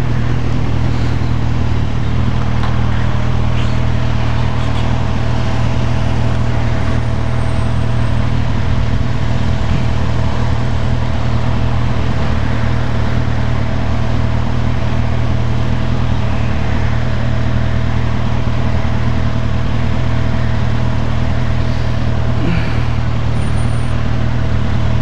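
A Ducati Panigale motorcycle engine holds a steady, loud, deep drone with a faint constant whine on top, sustained without a break throughout.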